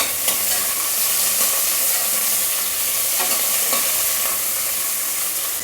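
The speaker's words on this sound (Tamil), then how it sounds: "வெங்காயத்தை போட்டு எண்ணெயில் கொஞ்சம் வதக்கலாம்" Onions with brinjal and drumstick sautéing in oil for sambar, a loud, close, continuous sizzle with soft stirring scrapes and no talking.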